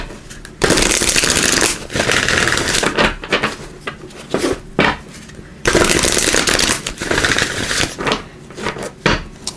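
A deck of oracle cards is shuffled close up, with two long riffling bursts and several short slaps and taps between them, crisp and loud with no talk.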